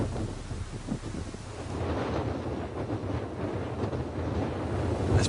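Steady strong wind buffets a cyclist on a long round-the-world bike ride, a close rushing roar across the microphone with no voices.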